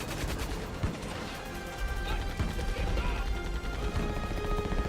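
Loud, busy exchange of gunfire and explosive crashes in the shooter GoldenEye 007: Reloaded, including a rocket launcher being fired, with dense overlapping shots and impacts running the whole time.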